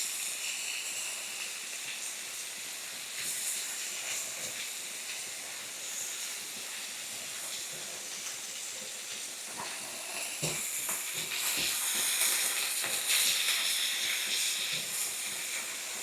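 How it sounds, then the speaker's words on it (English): Thinly sliced cheesesteak meat frying in a hot pan, giving a loud, dense, continuous sizzle with crackling splatter that swells near the end, close up with no talk. "We've got splattering going on"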